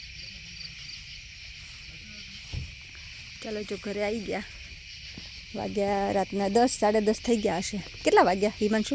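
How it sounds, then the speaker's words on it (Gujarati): Crickets chirp steadily at night in the USA as people arrive home, a continuous high trill running beneath conversation that starts after a few seconds and grows louder toward the end. "આ તમરા કેટલા બધા બોલે છે એમ"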